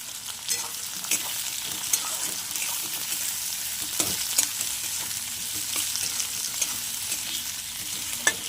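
Chopped capsicum sizzling in a hot pan while a spatula stirs it, giving a continuous close frying hiss with regular scrapes and taps against the pan, no one talking.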